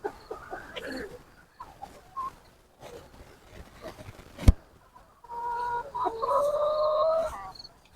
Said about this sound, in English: That's the sound roosters make when they found food.